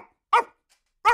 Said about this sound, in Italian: Abbaio acuto o ripetuto?